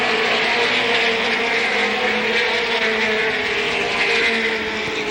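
ASA stock cars race around an oval track at Capital in 1985, a steady blended roar of engines carrying on without break, moderately loud and somewhat distant.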